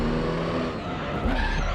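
Tires skid and squeal in Gran Turismo 3 as the handbrake is yanked, a loud continuous screech over a droning race-car engine with a pitch swoop near the end.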